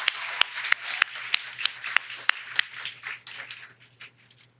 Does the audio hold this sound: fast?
no